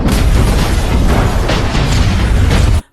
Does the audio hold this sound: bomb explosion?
yes